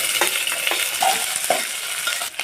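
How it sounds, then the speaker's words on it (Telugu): Tempering seeds, green chilies, curry leaves and onion fry in hot oil, giving a steady sizzle with scraping stirs and small crackles running throughout, close and fairly loud, no voices. "నూనె వేడెక్కాక పోపు గింజలు వేయాలి పచ్చిమిర్చి కరివేపాకు ఉల్లిగడ్డ"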